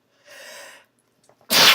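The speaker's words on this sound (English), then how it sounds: "And I'm gonna sneeze." A person sneezes once, close and loud: a short breathy intake leads into a sharp explosive burst, with no talking over it.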